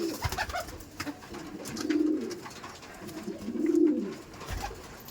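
A racing pigeon in a loft gives two clear drawn-out coos close by, separated by a short gap, over low background rustle and handling noise.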